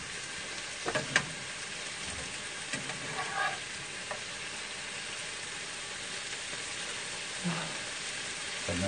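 Vegetables stir-fried in a pan, a continuous close sizzle broken by scraping and tossing knocks at irregular moments, with occasional faint voices in the background.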